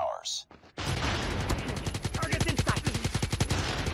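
Rapid automatic gunfire from the mobile shooter COD Mobile, a loud sustained burst of closely spaced shots that begins after a short sharp effect and runs to the end.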